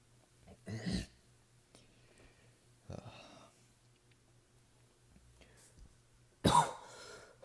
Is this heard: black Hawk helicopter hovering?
no